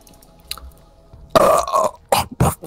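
A burp recorded close to the mic, a loud belch-like voiced burst followed by shorter gulping, chewing-like sounds, after a quieter faint sound at the start.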